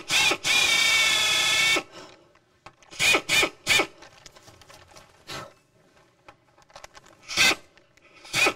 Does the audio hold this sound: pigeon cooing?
no